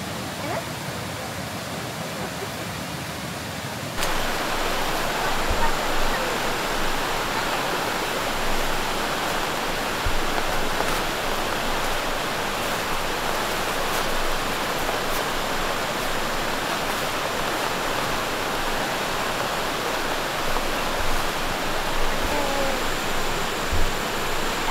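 A river flows steadily at a campsite, a continuous broadband rush of water that jumps louder after about four seconds and then holds constant, with no talking heard.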